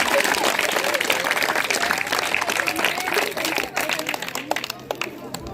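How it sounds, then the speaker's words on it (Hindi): Loud crowd applause for a school principal at a farewell ceremony, dense sustained clapping with cheering voices that thins out toward the end. "जोरदार ताली मस्तराम"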